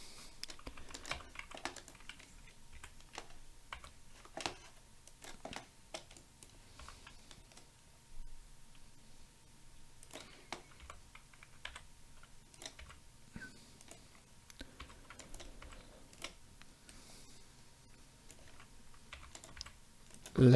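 Steady clicking of computer keyboard keys, irregular taps and bursts of typing at close range with no talk, continuing for about twenty seconds.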